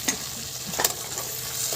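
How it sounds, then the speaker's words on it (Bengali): Prawns stirred through hot spice masala in oil for a prawn malaikari, a soft steady sizzle with a couple of brief scraping stirs, close and alone with no talking. "ভালো করে একটু মশলার সঙ্গে মাছে নেড়ে নিচ্ছি। ভালো করে কষিয়ে নেব।"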